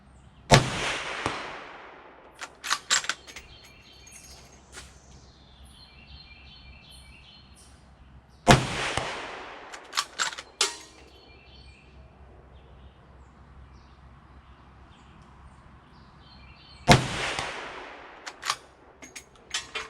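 Three loud, sharp rifle shots from a Ruger American chambered in 350 Legend, fired outdoors at a target about eight seconds apart, each followed by a rolling echo, with faint birdsong in the quiet between.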